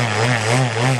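An MVVS 190 model aircraft engine with 12.5-inch RE3 headers screams at high revs on a test stand, its propeller drone loud, close and steady with slight throttle wavering throughout.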